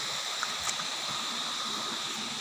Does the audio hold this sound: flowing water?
yes